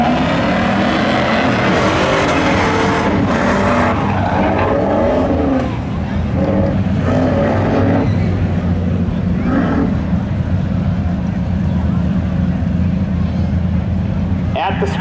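A 1989 Pontiac Firebird drag car idles and revs at the start line of a speedway spectator drag event, its loud engine rumble steady and close, with wind buffeting and an announcer talking over it.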